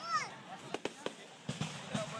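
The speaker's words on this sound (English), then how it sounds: "Let the fireworks burst," Fireworks go off at a distance, with a faint whistle followed by several sharp, scattered cracking pops over a quiet background.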